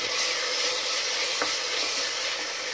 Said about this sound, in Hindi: नेक्स्ट अब हम इसमें ये टमाटर ऐड करेंगे और इसको भी अच्छे से भूनेंगे